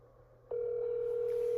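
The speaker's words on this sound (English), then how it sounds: "we're just dialing here" A telephone on speakerphone being dialed: a faint low hum gives way to a steady, loud dial tone that holds unbroken, with a fainter higher tone joining near the end.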